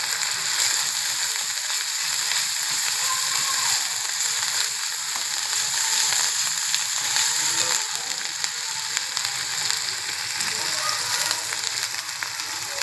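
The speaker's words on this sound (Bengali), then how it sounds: "পেঁয়াজ বাটা ফুটতেছে, তার জন্য আমি একটু নুন অ্যাড করবো।" Onion paste sizzles steadily in a hot pan with ginger-garlic paste, a continuous close frying hiss with faint crackles throughout, no talking.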